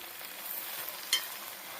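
Gongura leaves frying in oil for pickle, a steady soft sizzle as they are stirred in the pan, with one sharp scrape of the spoon partway through.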